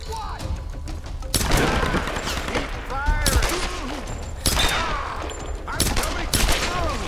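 Gunfire in the Tomb Raider video game: repeated sharp booming shots and bursts, loud and close, spaced through the clip under in-game voices and a player talking.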